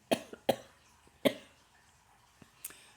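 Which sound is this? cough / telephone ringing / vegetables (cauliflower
cough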